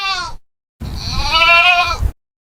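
Two close goat bleats, a short one followed by a longer wavering cry, separated by a brief silence.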